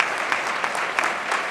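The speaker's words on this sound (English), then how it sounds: "let's give her a round of applause" Audience applause at a township board of education meeting, a steady, moderately loud patter of many hands clapping with no speech over it.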